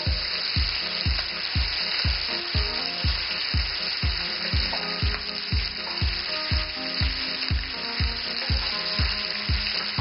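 Food frying for arroz negro crackles in a hot pan with a dense, continuous sizzle and popping, close up. A steady rhythmic low thumping runs underneath and no one speaks.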